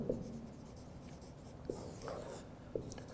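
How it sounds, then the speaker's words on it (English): An answer being handwritten in a philosophy class on truth values, heard as a close, continuous pen scratch with a few distinct tapping strokes, with no voices. "I can also write out"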